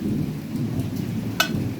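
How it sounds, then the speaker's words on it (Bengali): Heavy rain pours steadily outside, a dense continuous hiss with one sharp crack of thunder breaking through near the end. "বাইরে প্রচণ্ড বৃষ্টি বিদ্যুৎ চমকাচ্ছে"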